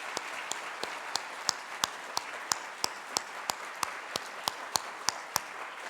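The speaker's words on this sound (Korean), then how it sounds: "뜨거운 박수 한번 해주십시오." A few people clap slowly at a church thanksgiving service, about eighteen sharp, evenly spaced claps that sound fairly close over a soft hiss of scattered applause.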